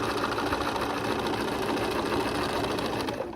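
A sewing machine backstitches across a crossbody bag, a fast, loud, continuous mechanical whirring and needle clatter heard close up without a break.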